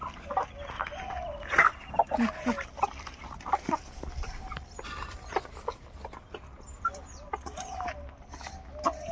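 Chickens in a rural Sundarbans yard: a rooster and a large black hen with her chicks give intermittent clucks and chirps. A person talks nearby over the birds.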